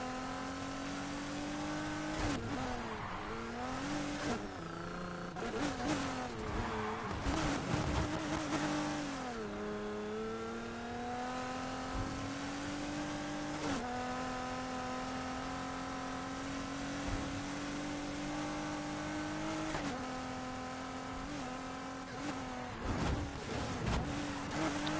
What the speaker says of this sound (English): This engine really sounds like a V8.